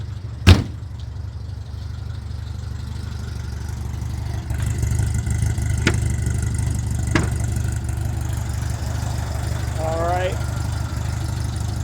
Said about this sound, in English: There is your dual port, air-cooled Volkswagen 4-cylinder engine.